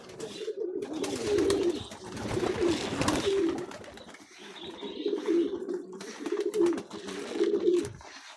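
Pigeons cooing in a flooded coop, a near, continuous overlapping run of low throaty coos with brief pauses and faint higher chirps in the background.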